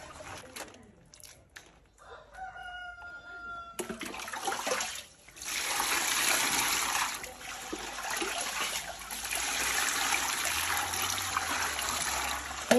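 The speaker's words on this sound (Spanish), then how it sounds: "Miren cómo sale todo el agua sucia, ¿eh?" Dirty water drains out of a small basket as maize is rinsed for tortillas in El Salvador: a quiet start gives way to a loud, steady rushing and trickling stream that runs to the end.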